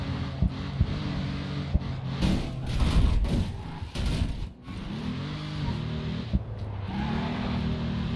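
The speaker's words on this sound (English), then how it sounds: "This thing has such a low engine note I can hardly hear it because these speakers in the monitors suck" Low race car engine note from the racing video game Grid 2, a steady deep drone with rises in revs, playing continuously and fairly loud with no talk over it.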